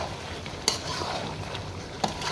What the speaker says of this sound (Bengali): দেওয়ার পরে এটা এখন ভালো করে আবারও ভেজে নেব।